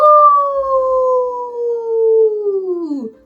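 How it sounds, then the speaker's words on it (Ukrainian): A wolf howl played from a smart picture book, one long clear gliding tone that slowly falls in pitch and drops off sharply at the end, loud and alone. "Виє на місяць вовк"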